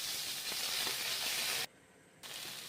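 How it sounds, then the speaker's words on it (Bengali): Chopped onion with a pinch of salt fries in a pan, giving a close, loud, steady sizzle that dips briefly before resuming. "এবার পেঁয়াজটা একটু ভাজা ভাজা হবে"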